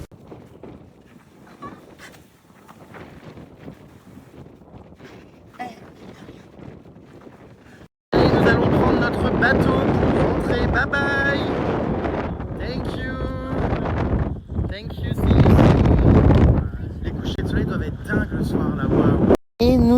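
Boat ride with loud wind buffeting the microphone, starting with quieter movement and footsteps, then a sudden roaring gust-filled stretch with engine and water noise as people talk.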